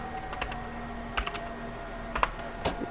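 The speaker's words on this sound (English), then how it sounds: "Hear my loud ass keyboard" Rapid typing on a loud computer keyboard, close and crisp, with irregular bursts of clacking keystrokes and no talk.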